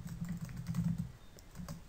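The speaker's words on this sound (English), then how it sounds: "you can always try typing this into Wolfram Alpha" A computer keyboard being typed on to enter a search into Wolfram Alpha: a quiet, steady run of soft key clicks with no talking.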